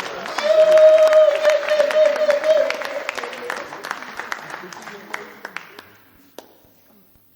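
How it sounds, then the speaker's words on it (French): A crowd at a lively indoor gathering erupts in applause and cheering that swells loud at once, then thins into scattered claps and fades to near silence. "Est-ce qu'on peut acclamer pour Daniel"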